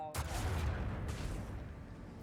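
Macro cannons fire in the Rogue Trader video game, a heavy booming blast that rolls into a sustained rumble, with a second report about a second later.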